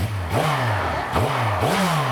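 A car engine with its standard factory exhaust revs repeatedly, three rising-and-falling blips of a deep exhaust note, loud and close, with a steady idle between them.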